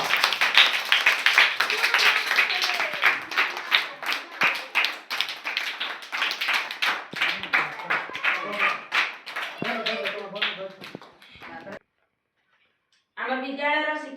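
Primary school students clap at a school cabinet formation ceremony, a run of sharp, close handclaps in quick uneven bursts that thin out, pause briefly into silence, then resume, with voices talking over them.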